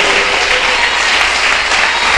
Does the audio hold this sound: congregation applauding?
yes